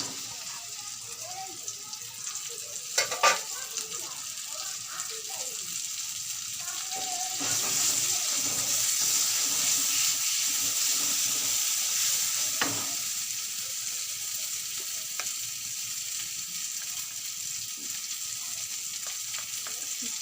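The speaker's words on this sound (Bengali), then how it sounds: "রসুন বাটাটা একটু ভাজা হলে তারপরে কলার খোসা" Banana peel paste frying with garlic paste in a pan, a steady hiss of sizzling with intermittent stirring scrapes and clatter, louder in the middle stretch, with some faint background voices.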